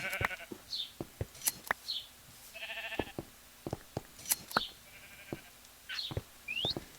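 Sheep in the Minecraft video game bleat in short, repeated calls scattered among sharp clicks and game effects, fairly close and clear with no talking.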